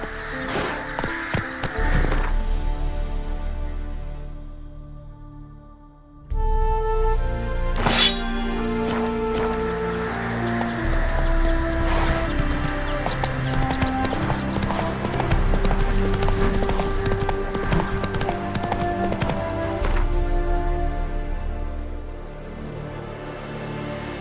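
Steady clip-clop of Roach, a horse galloping in The Witcher game, rhythmic hoofbeats running almost continuously at close range over background game music, with a brief quieter pause early on.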